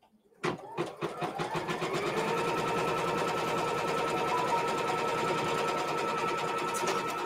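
A sewing machine stitches quilt pieces together, starting with a few slow stitches and then running at a fast, steady, even rhythm, close and continuous with no talk.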